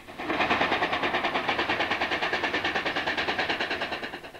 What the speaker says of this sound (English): locomotives 3801 and 3830 worked their way down the main line